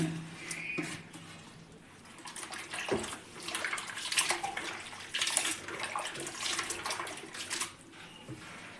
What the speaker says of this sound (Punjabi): ਹੁਣ ਆਪਾਂ ਇੱਕ ਪਾਣੀ ਲਵਾਂਗੇ ਪਾਣੀ ਵਿੱਚ ਆਪਾਂ ਆਲੂਆਂ ਨੂੰ ਪਾ ਦਾਂਗੇ